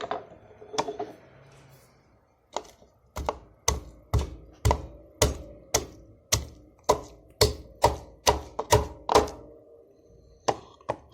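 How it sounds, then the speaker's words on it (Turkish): Repeated sharp pounding thuds in a steady rhythm as garlic is crushed for cacık, close by and fairly quiet, with short pauses. "Şimdi sarımsağımı ezeceğim."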